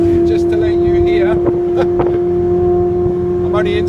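Ferrari 488 Spider engine held at a steady drone while being taken slowly up through the revs in second gear, loud and constant with a strong hum and wind noise over the microphone.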